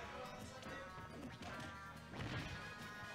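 Crashing, thwacking hit effects from a Super Smash Bros. match featuring Mii Gunner, Bayonetta, Pikachu and Ganondorf. Several solid impacts come in quick succession at low volume over game noise, with a louder burst near the end.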